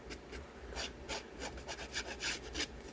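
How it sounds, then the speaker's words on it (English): Paper being rubbed over a decoupaged junk journal page gives rhythmic, close scratchy strokes, about a dozen even back-and-forth swipes over a few seconds, with no talking. "So you're probably thinking you're rubbing some of your decoupage off."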